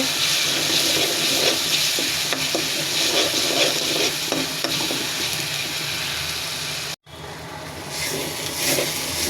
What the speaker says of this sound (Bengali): মরিচের গুঁড়া দিয়ে দিলাম। নাড়াচাড়া করে নেব।